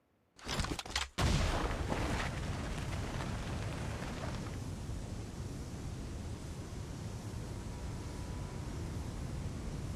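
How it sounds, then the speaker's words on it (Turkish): A video game car explodes with a loud blast near the start, followed by a sustained roaring rush of noise like fire and debris that continues steadily to the end. "Araba patladı."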